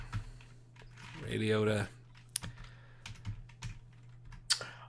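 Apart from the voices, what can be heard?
typing on a computer keyboard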